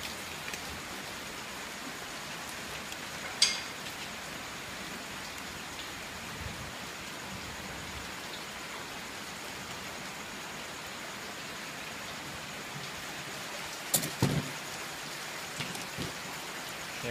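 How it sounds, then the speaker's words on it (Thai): Steady rain falls outdoors in a rural Thai setting, a soft continuous hiss of drops on surfaces at moderate distance, with a couple of brief louder knocks and patters standing out. "ฝนตกดีครับมื้อนี้ครับ"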